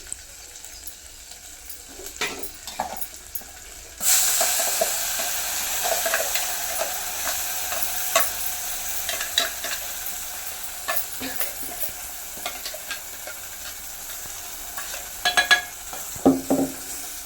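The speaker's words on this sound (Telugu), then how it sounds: "ఇప్పుడైతే ఈ మిక్సీ పట్టిన ఆనియన్స్ అయితే వేసేసుకుందాం ఇందులోకి" Ground onion paste, blended smooth, hits hot oil with turmeric in a pan for an egg curry and sizzles loudly and steadily while a spoon stirs and scrapes through it, close up with no talking.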